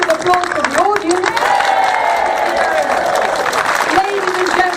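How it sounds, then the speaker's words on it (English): Audience applause at a choir concert for a Water Aid benefit, a steady wash of clapping mixed with sustained tonal sound running through the clip. "A final round of applause for the choirs."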